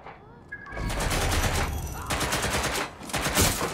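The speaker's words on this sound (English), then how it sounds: "Hear that gunshot?" Dense gunfire rings out in a loud, continuous fusillade that rattles on for several seconds. Sharp shots are layered over heavy background noise.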